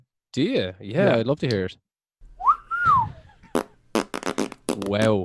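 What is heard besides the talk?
recorded shrill whistle of the Dobhar Chú creature, played MP3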